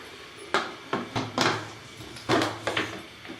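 A cooking pot holding mutton karahi is covered with a metal lid, giving a run of sharp clanks and scrapes close by, several distinct knocks spread over a few seconds with no talking.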